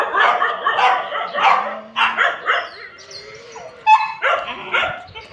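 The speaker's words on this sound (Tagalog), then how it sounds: "Nandun sa labas yung aking aso." A dog outside barks in quick bursts, with yips and a short whimper mixed in, fairly close and loud, with pauses between the barking runs.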